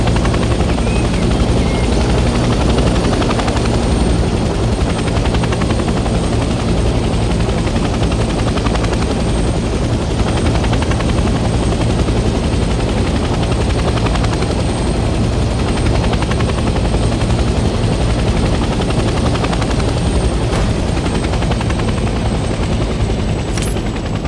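A helicopter in the Vietnam-era shooter Hell Let Loose hovers and slowly descends to land, its steady loud rotor drone and engine whine filling the whole stretch without a break.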